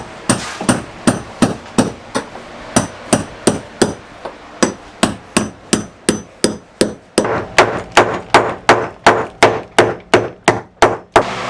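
Steady, loud hammer strikes on a sailboat's hurricane-damaged rub rail while it is being removed, about two blows per second in a long regular series, each a sharp close knock.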